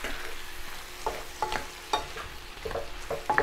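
Apples fry in a pan with a soft steady sizzle while a utensil stirs them in several quiet scraping strokes, close up.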